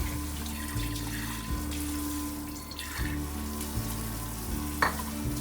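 Running tap water pours over cooked quinoa in a colander, a steady hissing splash broken by faint clinks and shifts of the grains.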